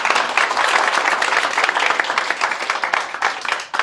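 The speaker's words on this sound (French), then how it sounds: "applaudissez pour voir, allez-y." Dense, steady applause from a festival crowd, many hands clapping continuously for a few seconds before tapering slightly at the end.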